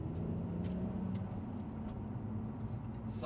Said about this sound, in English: This car has the V6 engine.